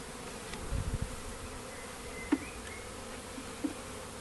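A low, steady buzzing of many honeybees in a bait hive with foundation frames fills the background, with a few brief clicks and light knocks nearby.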